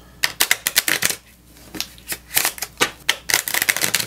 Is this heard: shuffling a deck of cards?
yes